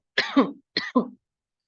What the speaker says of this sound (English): because I'm coughing a lot